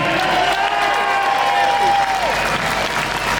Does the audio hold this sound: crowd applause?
yes